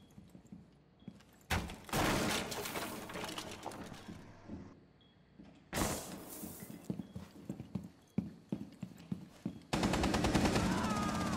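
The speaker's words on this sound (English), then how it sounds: "they're shooting each other" People shooting each other fire in sharp, rapid bursts of gunfire separated by quieter gaps, with a sustained louder barrage at the end.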